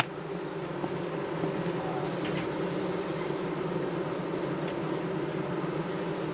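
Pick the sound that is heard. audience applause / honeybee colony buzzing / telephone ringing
honeybee colony buzzing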